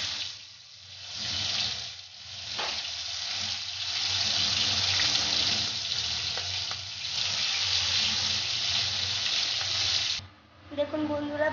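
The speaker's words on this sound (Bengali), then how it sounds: "এবার মা এটা ভেজে নেবে তেল গরম করে" Prawns (galda chingri) frying in hot oil in a home kitchen, a steady loud sizzle that holds for about ten seconds, with faint stirring scrapes, then cuts off abruptly.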